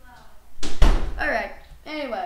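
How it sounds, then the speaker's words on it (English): A door closing with a solid thump in the middle of the clip, loud and close, between stretches of speech before and after. "Close the door and get back in here."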